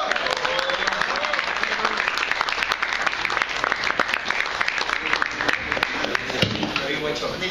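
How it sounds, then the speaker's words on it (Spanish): Audience applause at a performance by the band Ostende, with dense, loud clapping filling the whole stretch and some crowd voices mixed into it. "Un aplauso para Diego."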